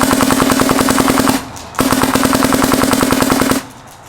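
A Dye DSR paintball marker fires in two rapid strings of quick, sharp pops, loud and close, with a short pause between bursts.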